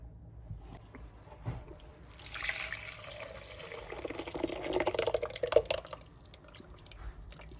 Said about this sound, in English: Pour it in a bowl lined with your cheesecloth.